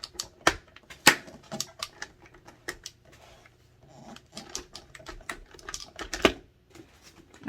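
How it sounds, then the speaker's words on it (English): Close, sharp clicks come from the visor of a Schuberth C5 motorcycle helmet as it is worked, irregular and scattered with quieter rustling handling noise in between. "it definitely has this little clicking sound"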